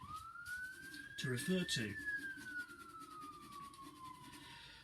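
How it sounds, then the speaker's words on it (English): An emergency vehicle siren wails outdoors in the background, a long rising and falling tone heard faintly behind a voice talking nearby. "Hopefully you can't hear those sirens in the background."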